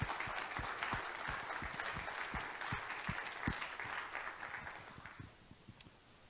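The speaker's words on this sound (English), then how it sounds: "Can we give a quick round of applause to all the families" Steady applause from a crowd at an athletic signing ceremony, many hands clapping densely for several seconds before tapering off near the end.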